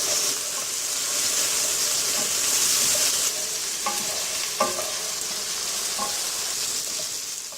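Ginger garlic paste frying in a pan for a Cameroonian dish, a steady bright sizzle with scattered spoon-scraping and stirring clicks, close and continuous with no talking.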